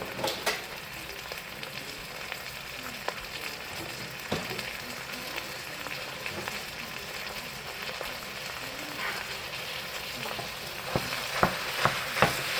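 Ground meat frying in hot oil in a pot for one-pot chili, a steady close sizzle and crackle with scattered scrapes and knocks of stirring throughout.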